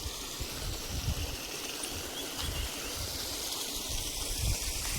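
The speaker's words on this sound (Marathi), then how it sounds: "हे बघा शेतातलं पाणी कसं बाहेर येते" Water pours out of a flooded rice field in a steady, continuous rush, close and fairly loud, with no breaks over the whole stretch.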